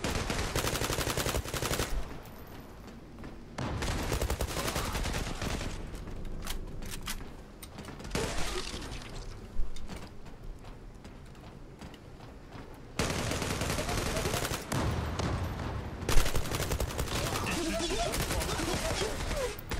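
Gunfire in the online shooter Zula, including shotgun blasts, comes in loud bursts of repeated shots separated by quieter stretches. Someone talks excitedly between and over the shooting.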